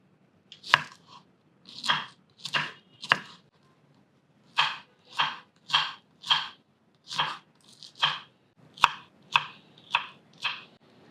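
A knife chops a banana flower bud on a board in close, crisp strokes, roughly sixteen cuts in short irregular bursts separated by brief pauses.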